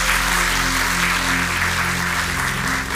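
Studio audience on a Polish game show claps in a dense, sustained burst of applause, loud and even throughout, with a low musical hum underneath.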